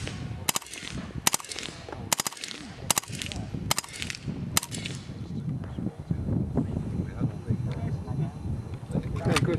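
A historic machine gun fires single shots on a range. About seven sharp, loud cracks come at roughly even intervals, then the firing stops and low background noise and murmuring carry on.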